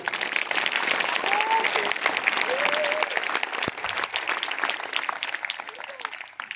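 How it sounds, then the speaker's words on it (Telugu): Audience applause at an outdoor gospel meeting fills the scene, dense and steady clapping from a crowd that holds loud throughout before thinning slightly near the end. "కొట్టు చప్పట్లు ఒకసారి"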